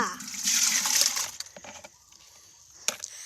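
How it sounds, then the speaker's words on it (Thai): Liquid fertiliser pours into a garden watering can with a gushing splash for about a second and a half, then fades to near quiet broken by one small knock. "เสร็จแล้วเนี่ยเราก็นำมาใส่ในบัวรดน้ำค่ะ"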